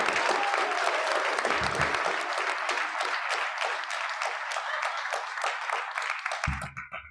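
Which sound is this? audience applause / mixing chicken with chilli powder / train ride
audience applause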